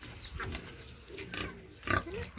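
Pigs on a piggery farm, giving low grunts and snuffles at close range over a faint background, with a louder grunt near the end.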